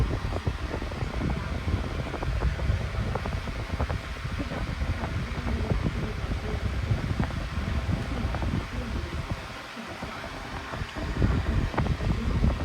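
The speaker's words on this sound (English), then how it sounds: "It has thin blades. That's one of the reasons why it's so loud." A powerful electric fan with thin blades runs loudly and close by, giving a steady, rough whoosh of rushing air throughout.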